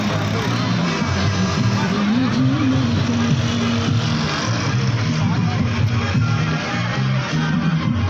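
Cars and passenger vehicles jammed in traffic on a blocked road at night in Karachi, with continuous loud engine rumble and idling close by and no break in the noise.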